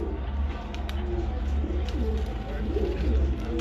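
Pigeons coo on a rooftop loft in Rawalpindi, a steady low cooing close by with faint chirps above, under soft background noise.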